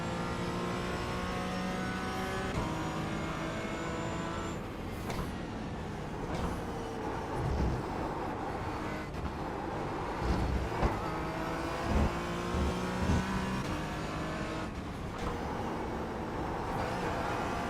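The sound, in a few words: GT4 race car engine revving in a VR racing video game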